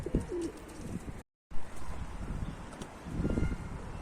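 Kelebek breed pigeons cooing nearby, soft low coos in a few short phrases with a brief gap of silence partway through.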